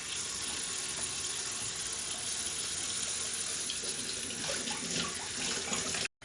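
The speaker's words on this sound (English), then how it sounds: "Wash your hands one more time." Tap water runs steadily into a kitchen sink as hands are washed, a continuous close hiss and splash that stops abruptly at the end.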